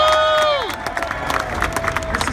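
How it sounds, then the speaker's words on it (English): A crowd claps and cheers at an Islanders playoff FanFest outside Barclays Center. Scattered clapping follows a brief whistle-like tone, moderately loud and close. "Can we give them a round of applause for being out here right now?"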